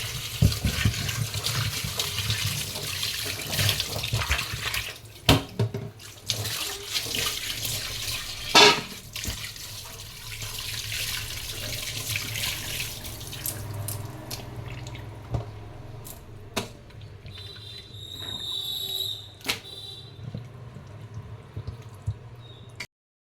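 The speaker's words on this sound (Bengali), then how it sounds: "তো ভালো করে ধুই আগে চিকেনটাকে" Raw chicken washed under a running kitchen tap, with a steady close stream of water splashing and trickling, occasional handling clunks, and the flow easing into drips near the end.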